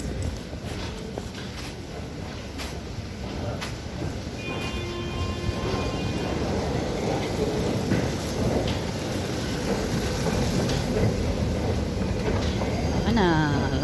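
A metro train pulls out of the station, its rising rumble and wheel noise building steadily as it departs, with a squealing tone near the end and a voice talking over the rail sound.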